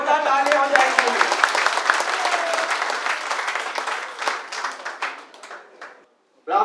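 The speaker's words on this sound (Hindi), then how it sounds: "जोरदार तालियां हो जाएंगी" Enthusiastic audience clapping at a hotel event, a dense burst of applause that thins out and fades over several seconds, with voices underneath, then a brief silence.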